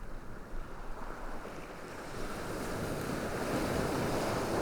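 Ocean waves breaking on a shore, a continuous broad wash of surf that builds louder toward the end, mixed with wind noise.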